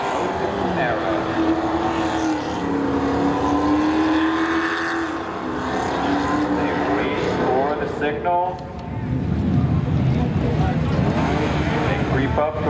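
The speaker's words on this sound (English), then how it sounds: "They creep up the revs, spool up, and away they go." A Dodge Stealth and another street car line up for spectator drag racing at Seekonk Speedway, engines revving and droning loudly under an announcer's steady commentary, with a rising pitch sweep before they launch.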